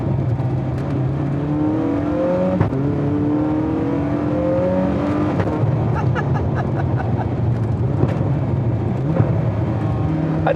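A Zenvo TSR-S hypercar drives at speed, heard from inside the cabin as a steady loud engine drone with rising and falling gear tones and a few brief clicks, with no talk over it.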